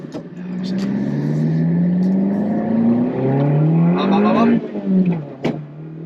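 Lotus Elise Sport 220 engine pulling hard through the gears, a loud rising rev that climbs, drops at a shift and climbs again, heard from inside the cabin with a sharp click near the end.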